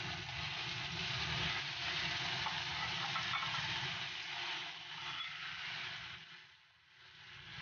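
Threadfin bream fish hisses and sizzles as the pieces are laid into a clay pot of hot peanut oil with fried aromatics. The broad frying noise holds steady and dips briefly near the end.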